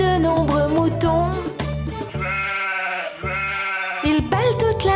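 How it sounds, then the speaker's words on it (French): A sheep bleats on a children's-song farm, its voice carried as a sustained, wavering tone over a loud, continuous musical backing, with pitch sweeps and short pauses through the phrase. "Il bêle toute la journée dans la drôle de ferme de Papy Henri"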